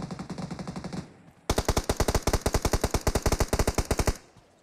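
Automatic gunfire in the mobile game PUBG Mobile rattles out in fast, loud bursts, a shorter volley followed by a longer, denser string of rapid shots.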